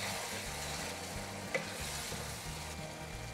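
A steady sizzle of boiled egg masala frying in a pan, with a brief scrape of a spoon stirring partway through; no voices.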